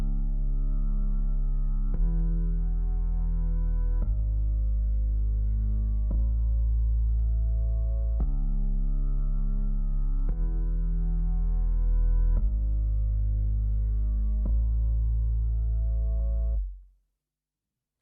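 Sustained piano chords shift every couple of seconds, layered over a thick distorted, compressed sine bass an octave lower, played loud and steady before cutting off abruptly.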